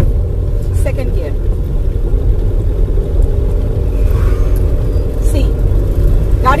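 A car engine in second gear hums at a steady low rumble, running smoothly without strong revving, close and fairly loud throughout.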